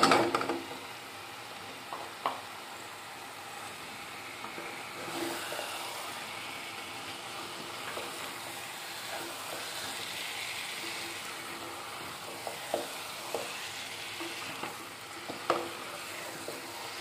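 Half a kilo of sweet potato pieces sizzle in a pan with tomato, a steady frying hiss running throughout, broken by scattered clinks and scrapes of stirring.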